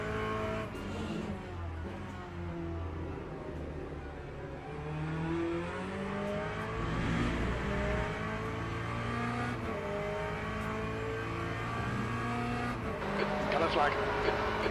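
An LMP3 prototype race car roars past in the Le Mans Ultimate sim at Silverstone, its engine note rising and falling through gear changes under a steady hum of other cars, with occasional tire noise and a race radio voice.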